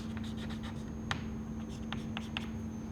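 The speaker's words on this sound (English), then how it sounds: "I would also like to write the element numbers." Marker or chalk writing on a lecture board, a few short scratchy strokes over steady room hum and a constant electrical whine, with no talking.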